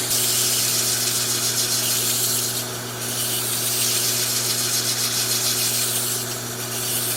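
Continuous sandpaper rubbing against a small wooden goblet spinning on a lathe, starting at 150 grit, a loud, close, steady abrasive hiss over the motor's low hum, with no talking.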